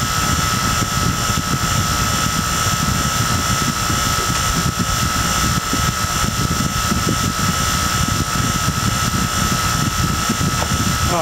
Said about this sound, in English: I'll let you listen to that pump for a second.